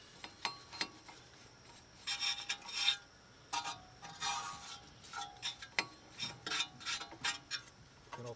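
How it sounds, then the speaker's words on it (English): Wire brush scrubbing rust off front brake parts of a 1996–2000 Honda Civic, heard as intermittent raspy strokes in short bursts with pauses between, fairly close and moderately quiet, with no talking. "And then get the wire brush."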